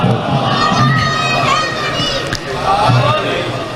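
A large crowd at a religious sermon recites salawat together in response, a dense, loud chorus of many voices with chanted, wavering tones throughout.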